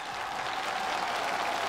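An audience at a Beijing TV comedy sketch claps in a dense, steady wash of applause that holds at an even level from start to finish, with no talking over it.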